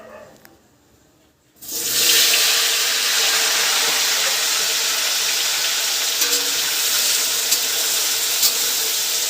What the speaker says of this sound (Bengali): তো পকোড়াগুলো ভাজছে আর কি।